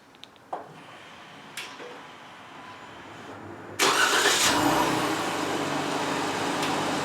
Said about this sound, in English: I will show you the remote start now.